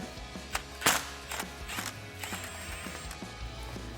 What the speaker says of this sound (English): So we'll take a 10mm socket to remove our bolt